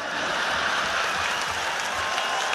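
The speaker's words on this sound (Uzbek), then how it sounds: "Bitta qarsak chop qo'yinglar shu yigitga." Audience at an Uzbek wedding applauding, a steady dense clatter of many hands clapping throughout, fairly near and without speech.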